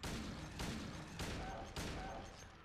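Pistol shots in the video game Silent Hill 2, four loud, evenly spaced gunshots about half a second apart, each ringing out briefly.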